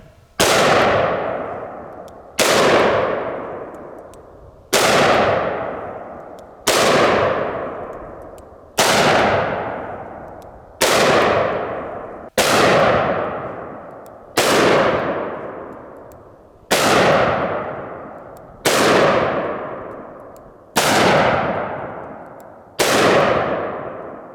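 Gunshots strike body armor fitted on a ballistic gel dummy, twelve sharp, loud cracks spaced roughly two seconds apart, each followed by a ringing, fading tail.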